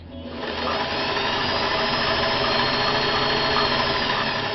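A vintage Singer 500A sewing machine sewing fabric at a steady speed, a fast whirring mechanical hum that builds up within the first half second and then holds even and close, with no speech.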